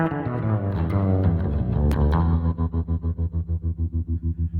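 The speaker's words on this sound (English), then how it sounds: "you can really kick it into a tremolo thing at the end with using the expression pedal" Sustained electric guitar notes through a Rocktron Utopia B300 that turn into a fast, even pulsing tremolo via expression pedal, the volume throbbing rhythmically to the end.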